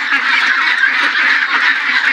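Farm ducks quack loudly and continuously at close range, a dense overlapping chorus of nasal honking calls from a flock, with no talk.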